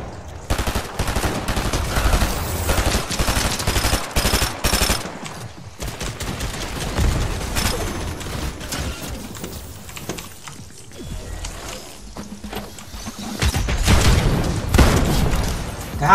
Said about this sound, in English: You can literally shoot through the bars